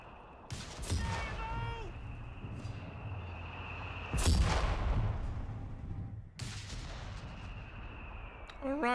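Mortar and artillery fire in Company of Heroes 3, with heavy booming impacts near 1, 4 and 6.5 seconds over continuous battlefield rumble, and a voice talking over much of it.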